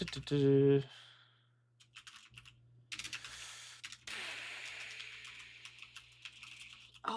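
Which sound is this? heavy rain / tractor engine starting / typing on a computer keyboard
typing on a computer keyboard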